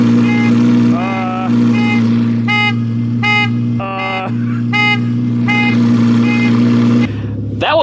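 Nearby car alarm blaring in repeated pulsing tones over the deep rumble of an Audi R8 idling with a loud titanium exhaust.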